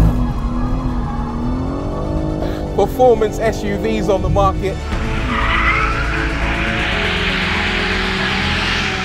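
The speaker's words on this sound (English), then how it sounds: "foolproof drift mode, letting you hang the back end out for as long as you dare" A BMW M3 Touring drifting in drift mode: a revving engine hum, then loud, sustained tire squeal as the back end slides, with someone talking over the first part.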